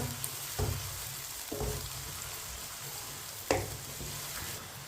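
Ingredients browning in a pan on a medium flame for beef karahi, a steady close sizzle and fry with a few soft spoon stirs and clinks.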